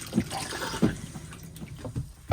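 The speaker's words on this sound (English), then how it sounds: "and you'll get a flow of fresh water." Fresh water flows into the toilet of a Swift Kon-Tiki 874 caravan, trickling and splashing close by in a short, uneven burst with a few drips.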